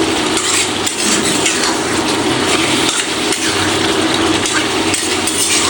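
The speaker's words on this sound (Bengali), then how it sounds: "মশলাগুলো ভালো করে কষাতে হবে, যাতে প্রত্যেকটা মশলা চিকেনের মধ্যে ভালো করে ঢোকে।" Spicy country chicken being stirred and sautéed with chili powder and salt in a pot, giving loud, continuous scraping and rattling with recurring strokes against the metal.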